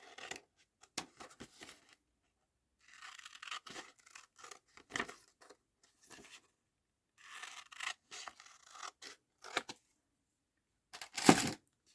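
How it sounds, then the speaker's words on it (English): Scissors snipping out a paper image for a junk journal page, quick close crisp cuts in short irregular bursts with pauses between, ending in a sharper louder clip. "So we'll cut this out first of all. Cut it right to the black."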